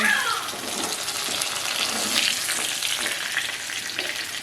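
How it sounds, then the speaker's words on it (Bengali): Pointed gourd (potol) pieces fry steadily in hot oil in a kadai, a continuous loud sizzle with faint stirring and no talk. "তো পটলগুলো আমার দেখো ভাজা হয়ে গেছে"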